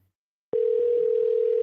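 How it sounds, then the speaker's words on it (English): A steady telephone dial tone starts abruptly after a short silence and holds at an even, loud level as a phone call is placed. "Make a phone call."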